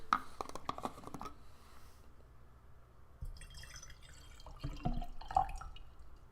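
Water sloshing and dripping from a plastic water bottle, close and fairly quiet, in a few irregular bursts with short drips and splashes spread across a few seconds, heard alone without talk.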